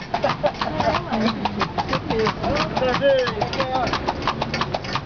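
A horse's hooves clip-clop in a steady, close rhythm of hollow knocks, continuing throughout while people talk over them.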